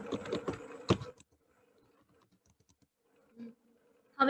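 Computer keyboard keys clatter in a quick burst of typing at close range, then fall mostly quiet with a few soft taps before another brief flurry at the end.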